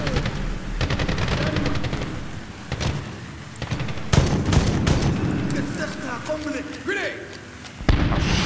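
Dense automatic gunfire and bursts of shots from a Medal of Honor (2010) firefight, loud and close, with sharp louder cracks standing out and voices talking over the battle.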